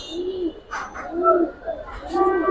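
A round-headed male pigeon coos in three low, rolling phrases spaced about a second apart, close and clear with faint background noise between calls.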